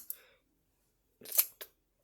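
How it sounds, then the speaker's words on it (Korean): Scissors cut through play corn, a soft foam craft material, making a brief snip and then two quick close crisp cuts after a short silence. "이 가위로 플레이콘을 자를 겁니다."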